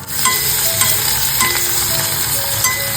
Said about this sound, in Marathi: कांदा लसूण मस्त परतवून घेतलेला आहे टोमॅटो घालून घेतोय